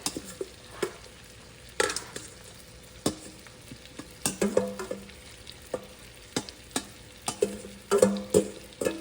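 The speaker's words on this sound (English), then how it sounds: "So I'm going to add them in here now to cook them." Diced celery, onion and carrots frying in a pot for a vegetable soup, with a steady close sizzle and repeated scraping stir strokes of a utensil against the pot, no talk.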